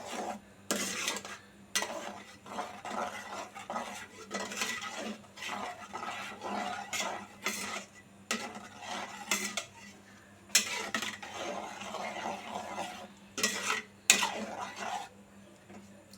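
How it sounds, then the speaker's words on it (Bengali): A spoon scrapes and clanks against a pot as fried egg is stirred into moong dal curry, repeated rhythmic metallic strokes with soft sizzling between them, close and distinct. "মিশিয়ে নিলাম তরকারির সঙ্গে"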